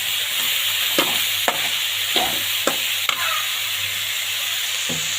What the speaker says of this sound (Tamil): நல்லா வதங்கிக்கிட்டு இருக்கு.